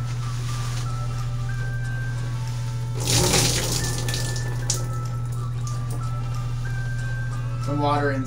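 Water running and trickling out of both sides of a Rokslide binocular harness during a wet test, a steady splashing wash over a constant low hum, with a brief louder gush midway.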